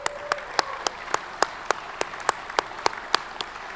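Applause for Troy at the Otago Branch Regional Excavator Operator Competition awards ceremony, sounding as a steady run of about a dozen sharp, evenly spaced claps, like one or a few people clapping slowly over a faint background.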